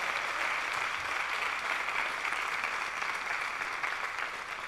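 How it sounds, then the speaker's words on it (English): A live storytelling audience in Nairobi applauds a violinist returning to the stage, an even, full round of clapping that sustains throughout and fades slightly at the end. "Please give him a warm round of applause as he comes back on stage."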